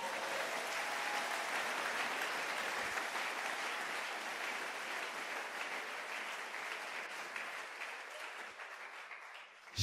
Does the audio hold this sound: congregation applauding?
yes